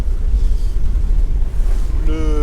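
Loud, steady wind of about 20-25 knots rushing over the microphone with the churn and slosh of waves against a sailboat hull in the Mediterranean off Greece. A voice starts just at the end.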